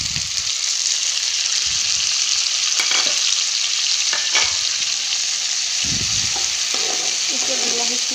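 Chopped tomatoes go into a pan of browning onions for Maggi masala tadka, bringing a steady loud sizzle broken by scraping, clattering strokes of a spatula stirring the mixture.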